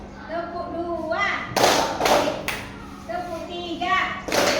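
Children clap along in a counted clapping game in a classroom, several sharp bursts of group clapping between a woman's spoken count, fairly close and lively.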